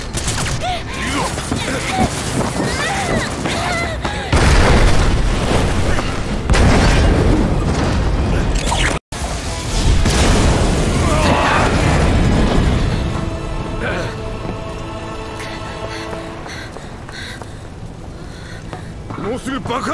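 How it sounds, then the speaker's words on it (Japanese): Explosions from the Final Fantasy VII video game, heavy booming blasts and rumbling bursts rising sharply around the middle, with a brief cutout, then a sustained mechanical rumble fading away. "もうすぐ爆発するぞ。"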